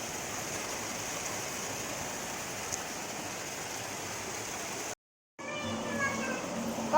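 Rainwater falling in a steady soft hiss, fairly faint and continuous, broken by a brief gap near the end before resuming.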